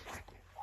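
A small dog whimpers faintly, a short high-pitched whine close by.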